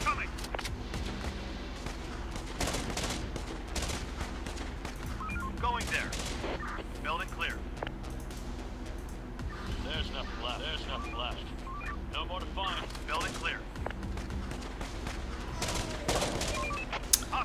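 Rapid bursts of gunfire from soldiers shooting in the video game Infection Free Zone crackle steadily throughout, layered with game effects while someone talks over the action.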